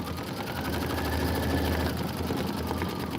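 An embroidery machine stitches out the stems and leaves of a quilt flower block, giving a steady close mechanical hum with a fast, even needle chatter that runs without pause.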